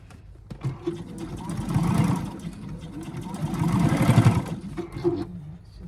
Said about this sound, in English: I don't want to sew over it by accident.